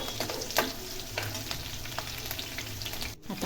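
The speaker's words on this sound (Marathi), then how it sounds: "आता हिरवी मिरची पण आपल्याला छान तेलामध्ये होऊन द्यायची" Green chillies fry in hot oil for a dal methi dish, a steady close sizzle with scattered stirring clicks and scrapes of a spatula throughout, no voices.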